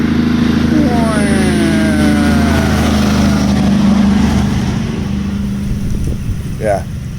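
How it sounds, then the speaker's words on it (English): A big truck passes on a road beside a cyclist, a loud engine roar swelling and then fading over steady wind and traffic noise, with a voice speaking partway through. "Oh look, big truck."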